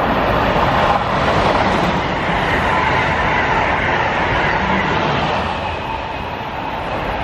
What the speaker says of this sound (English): This is the least used station, but it has so many trains passing through it.